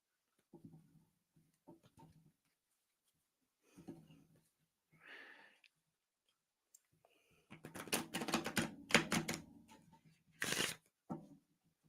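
Tarot cards being shuffled by hand, soft scattered riffles at first, then a dense burst of rapid card flutters and riffles near the end, close and alone with no talk.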